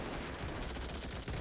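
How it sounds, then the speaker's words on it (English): Machine guns firing in the Men of War: Great War mod's Russian trench defense, a dense battlefield clatter of rapid overlapping shots and bursts that runs continuously. "You can hear the little chick-chacks of the machine guns going off."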